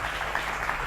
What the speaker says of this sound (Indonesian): tepuk tangan lang yang meriah buat mereka berdua.